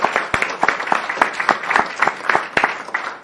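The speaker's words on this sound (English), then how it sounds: "Let's give her a round of applause." Claps at a county board meeting, a small group giving brief, sparse applause with distinct individual handclaps in an uneven rhythm, close and fairly loud, lasting a few seconds.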